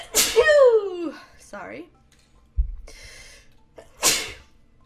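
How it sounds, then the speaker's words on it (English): A single sharp human sneeze right at the start, near and loud, followed by breathy sounds, a thump and later a second breathy burst; someone speaks briefly. "Okay, oh, I'm gonna sneeze. I'm gonna sneeze."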